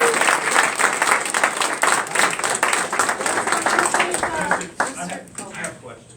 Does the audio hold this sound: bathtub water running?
no